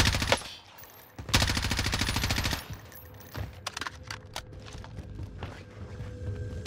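A loud burst of rapid automatic gunfire from Modern Warfare Warzone rattles out for about a second and a half, surrounded by scattered single shots, footsteps and clattering game effects.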